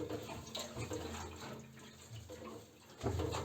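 Petrol sloshing inside the fuel tank of a Chinese capacitor-type petrol generator as it is shaken by hand, giving soft, irregular liquid swishes close up with a stronger surge near the end.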